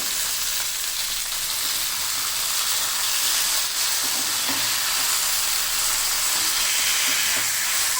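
A whole fish sizzling in hot oil in a pan, a continuous loud frying hiss with faint knocks and scrapes as it is turned over on lowered heat, no voices.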